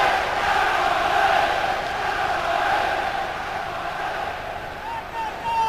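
Football stadium crowd during an Aston Villa match, a broad sustained roar of many voices swelling and chanting, steady and loud throughout.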